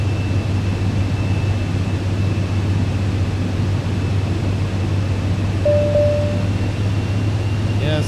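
Steady aircraft engine drone in Microsoft Flight Simulator 2024, a constant low hum with a faint high whine, throttle being eased up during runway lineup at Lisbon, sounding even and continuous with only a slight swell late on, no one speaking.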